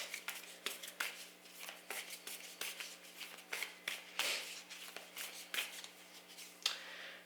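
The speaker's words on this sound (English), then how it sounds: "So I'm going to just pull a couple of cards for that." Tarot cards being shuffled and drawn, a quiet close series of papery flicks and slaps in an uneven rhythm, with no voices.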